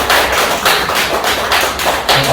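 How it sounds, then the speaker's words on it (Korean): An audience applauding to welcome a speaker at a church gathering, a dense steady wash of clapping from many hands, loud and sustained throughout. "큰 우리 좀 박수로 환영해 주세요"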